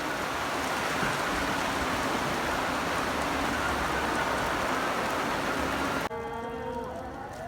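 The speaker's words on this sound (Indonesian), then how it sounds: "Anjir, hujan." Heavy rain pours steadily in an outdoor tourist spot near Pujon, Malang, a dense close hiss that cuts off abruptly near the end as voices speak faintly.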